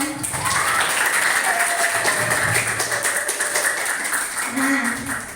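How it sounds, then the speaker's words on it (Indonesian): Students in a classroom applaud at the close of a lesson on fantasy stories, a dense, steady patter of many hands with voices talking over and among the claps throughout. "Boleh kasih tepuk tangan."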